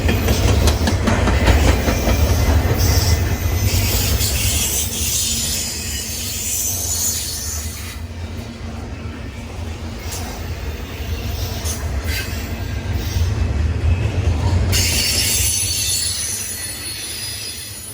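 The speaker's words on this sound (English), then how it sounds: ".265 is a BNSF train that originates here in Atlanta." BNSF freight train rolling through Atlanta, loud and close, with steady wheel rumble, high metallic wheel squeal rising and fading, and rhythmic clickety-clack of cars passing.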